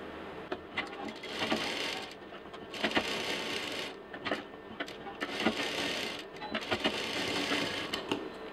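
A sewing machine stitching along the edge of fabric for a homemade holder, running in bursts of rapid rattling with short pauses between runs, close and clear.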